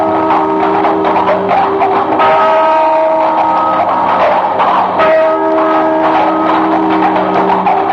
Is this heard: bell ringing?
yes